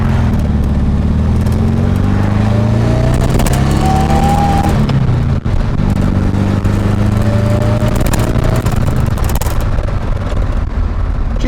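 A supercharged 1600cc VW Karmann Ghia engine revs hard at high RPM, a loud sustained roar that rises and falls through two climbing pulls with a brief dip between them.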